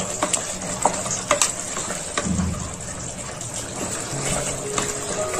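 Minced meat keema is stirred and fried in a pan over a slow flame, with steady sizzling, scraping spoon clatter and a few sharp clicks close up, and no talk.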